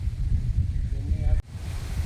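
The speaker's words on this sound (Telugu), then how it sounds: "చల్లగా ఉంది. చల్ల గాలి, ప్రశాంతమైన గాలి." Cool wind blowing outdoors under trees, a steady broad rush that stays fairly loud and continuous, with a brief dip near the end.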